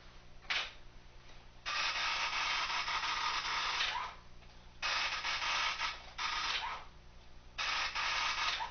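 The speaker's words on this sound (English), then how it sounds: "This is just a simple dot matrix printer." A simple dot matrix printer in an early-1980s home office prints out a long report, its harsh buzzing head passes coming in several loud bursts of a second or more, separated by short pauses as the paper advances.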